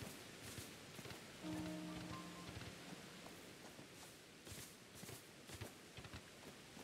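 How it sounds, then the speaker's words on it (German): Rain in the video game Pokémon Legends: Arceus, a faint, steady hiss of falling rain with scattered patters and a brief tonal game sound partway through. "Jetzt fängt hier auch wieder der Regen und alles an."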